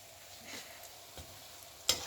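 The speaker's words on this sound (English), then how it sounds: "let it be on a low heat, so it will deep fry very well" Fish rolls deep frying in oil over low heat, a soft steady sizzle with occasional stirring clinks and scrapes, one sharper burst near the end.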